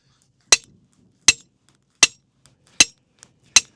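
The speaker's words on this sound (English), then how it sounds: "Just bang this post in." Five sharp, evenly spaced hammer blows ring out on a post, loud and close, with quiet pauses in between.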